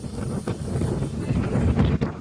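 Strong wind roars against the microphone in heavy, uneven gusts during flooding in Malolos, a constant low rumble with no one speaking.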